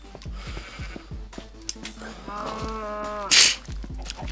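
Sheep in the Minecraft video game bleat a few times in a short burst of wavering cries partway through, over quiet game sounds and footsteps.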